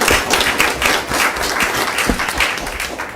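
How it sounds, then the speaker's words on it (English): Loud, steady applause from the audience at a city council meeting, dense overlapping clapping that carries without a break for a few seconds. "let's give him a round of applause"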